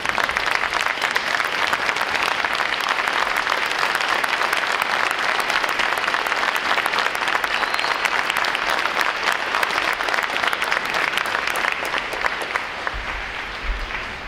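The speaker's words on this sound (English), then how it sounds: "Would all our veterans please rise and give you a round of applause." Sustained applause from a large audience at a U.S. Navy recruit graduation ceremony honors standing veterans, a dense loud clapping that continues steadily and begins to taper near the end.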